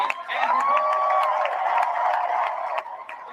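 A convention audience claps and cheers for series composer Bear McCreary in a dense round of applause, with a tonal voice or whoop rising over the crowd partway through.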